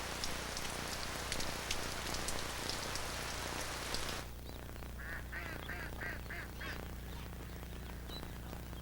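Rain falls steadily in Cambodia with a dense hiss of drops hitting surfaces. The downpour eases partway through, and ducks quack in a quick run of calls nearby.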